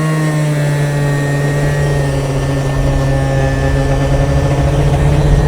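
A modified 50cc scooter engine runs at a steady high drone while riding, a constant buzzing whine with little change in pitch, loud and close, no speech.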